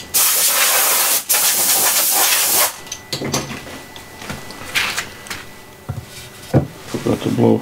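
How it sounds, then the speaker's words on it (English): A sharp, loud rush of air blows dust off a wide-rimmed cherry wood bowl for a couple of seconds, followed by quieter scattered clicks and handling noises. "Forgot to blow the dust off."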